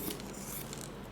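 Scissors snip through grosgrain ribbon in one quick, soft, close cut.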